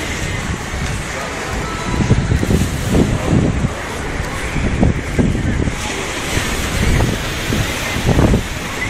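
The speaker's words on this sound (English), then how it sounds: "there is a sound of the water rinsing along the pebbles" Sea water washes over pebbles on a beach at Las Galletas in southern Tenerife, a continuous rushing surge with wind noise and rising swells every second or two.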